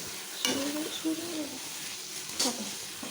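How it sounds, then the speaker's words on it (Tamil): Mint leaves frying in a pan for mushroom biryani give a low steady sizzle, with a spoon stirring and scraping in a few short strokes while a voice speaks over it. "புதினா தலை போட்டு அது ஓரளவுக்கு ஃப்ரை ஆகணும்."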